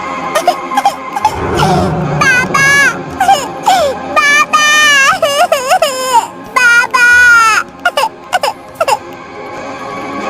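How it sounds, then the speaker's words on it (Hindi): A child wails and sobs loudly and close by, rising and falling cries broken by gasping breaths and hiccuping sobs. "अपने बच्चे की रोती हुई आवाज सुनकर"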